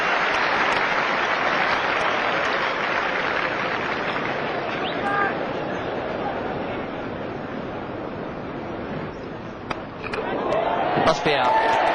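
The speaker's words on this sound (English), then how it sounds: "Great ovation here from this oval crowd." A cricket crowd at the Oval applauds a batsman's half-century during a 1992 England versus Pakistan Test, a broad sustained wash of clapping that fills the whole stretch, with a commentator's voice briefly audible near the end.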